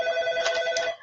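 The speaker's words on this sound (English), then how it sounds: "So please excuse the phone ringing." A telephone rings in an office, a bright electronic trill in repeated bursts that stops near the end, fairly close and with no talk over it.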